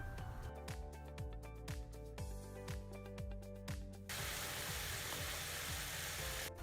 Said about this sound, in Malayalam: അപ്പോൾ ഇനി നമുക്ക് ഓരോന്നായിട്ട് എടുത്ത് നമുക്കൊരു ഷാലോ ഫ്രൈ ചെയ്തെടുത്ത് നമുക്ക് മാറ്റി വയ്ക്കാം